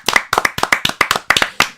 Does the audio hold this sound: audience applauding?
yes